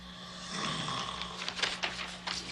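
Steady snoring with a low rumbling drone and rhythmic breathy rasps, fairly close, with no talking.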